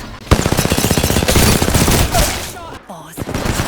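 Rapid automatic gunfire in the Apex Legends battle royale shooter, a dense stream of loud shots rattling through most of the moment with a brief lull near the end before firing resumes.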